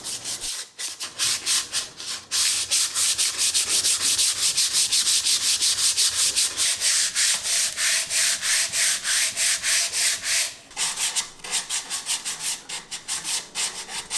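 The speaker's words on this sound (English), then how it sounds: "once I finished sanding" Rapid, rhythmic rubbing of sandpaper on a wooden lamp, loud and close, continuing steadily with a brief pause near the end.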